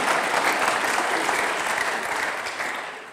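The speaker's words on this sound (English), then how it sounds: "That's my wife clapping." An audience claps continuously at an evening talk, a full, close wash of many hands that thins slightly toward the end.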